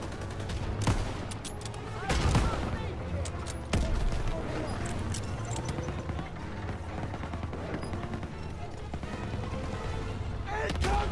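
Heavy gunfire and artillery fill a Call of Duty WW2 battle, with loud bursts of automatic fire and booming blasts cracking over a continuous din, while shouted voices carry through the fighting.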